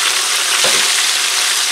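Flounder frying in a pan gives a steady, loud sizzle with a brief bubbling burst partway through.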